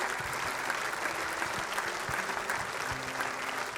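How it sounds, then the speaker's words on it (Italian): Steady applause from an audience at the Premio Navicella Sardegna 2024 award ceremony, a dense even wash of many hands clapping at moderate distance, lasting throughout with little variation. "vi chiedo un applauso per la Fondazione di Sardegna e il Banco di Sardegna"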